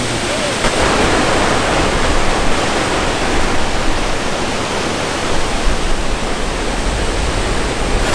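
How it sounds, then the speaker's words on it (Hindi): Water overflows at Khutaghat Dam near Ratanpur, a loud, steady rushing roar of falling water that fills the whole stretch without a break. "और अभी भी देख सकते हैं बहुत ज़्यादा ओवरफ्लो है।"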